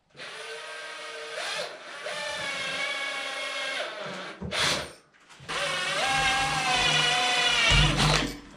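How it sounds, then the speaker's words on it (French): A drill with a 6 mm masonry bit bores holes for 6 mm wall plugs, giving two sustained whining runs separated by a brief pause, loud and close. "J'y vais avec un foret à béton de 6."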